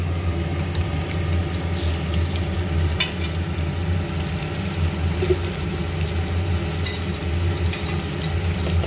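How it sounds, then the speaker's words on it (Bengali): Rohu fish pieces frying in oil in a pan, a steady close sizzle with faint crackles and a few sharp clinks of a spatula against the pan. "একে একে আমি মাছগুলো দিয়ে দেবো, দিয়ে আমি কিন্তু লাল করে কিন্তু ভেজে নেব"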